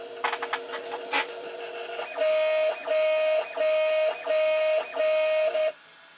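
Prusa i3 MK2S 3D printer running its self-test, with quick mechanical ticks at first and then five evenly spaced whining stepper-motor moves, each lasting about half a second, close by and with no talking.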